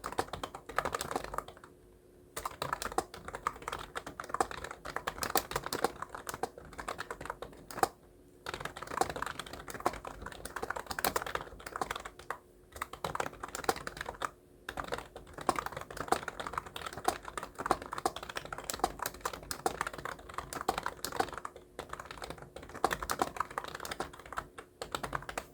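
Steady typing on a computer keyboard while entering Korean text in Hangul 2022 word processor, a continuous close clatter of keystrokes with a few brief pauses, no voices.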